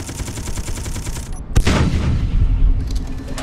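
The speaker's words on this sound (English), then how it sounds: "Both guns are functioning. Some nice little sound effects." Tank cannons firing in the Space Engineers video game: a rolling mechanical rumble, then one loud sharp blast at mid-clip that echoes into a sustained low roar to the end.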